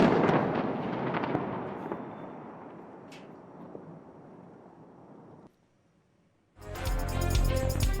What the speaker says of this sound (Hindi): लेबनान के दारुल हुकूमत बैरूत में धमाके।